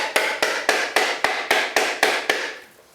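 Nine sharp, evenly spaced ball peen hammer blows on a coconut shell, each ringing briefly, the last one fading out.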